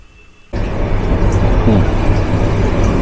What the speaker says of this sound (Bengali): আর আমাদের ট্রেনটা এখন ভালো স্পিডে ছুটছে